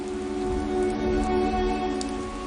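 Heavy rain pours steadily outdoors, a dense continuous patter of drops over a low background hum, with no voices present.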